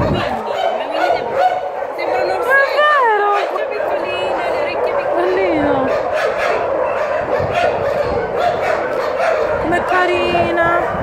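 A small, elderly dog gives a series of short barks and high yips with whimpering in between, close by, while people talk throughout.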